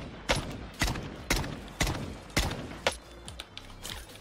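Gunfire in Call of Duty Warzone: a run of sharp, evenly spaced shots from a semi-automatic SKS rifle, then smaller distant pops, all heard over a dense game soundscape with no talk.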